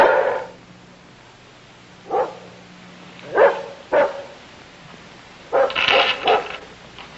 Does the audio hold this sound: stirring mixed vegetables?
no